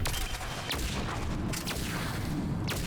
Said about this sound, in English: Scorpion. So it fires like a small ball, which then explodes. So it's like a sticky grenade.